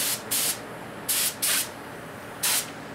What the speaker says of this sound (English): that little sound there let me know I'm just about out of paint